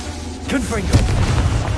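A single Confringo explosive spell goes off as a short, punchy burst in Hogwarts Legacy, set in a cave, with a voice-like tone and game ambience around it.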